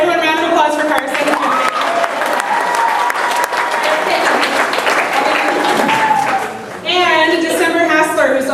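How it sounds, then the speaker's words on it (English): A camp performance audience applauds a helper, steady loud clapping with some cheering throughout, while children's voices and a sung or called tone rise above the crowd near the end. "everyone round of applause for Carson"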